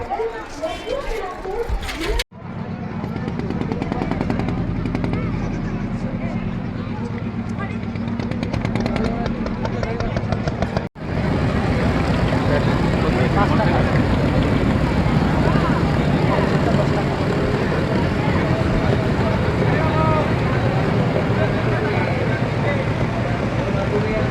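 A passenger launch pulls away from the river bank on the way to Mayapur, its engine a loud, steady drone that drops out briefly near the start and again midway, then returns stronger, with voices beneath it.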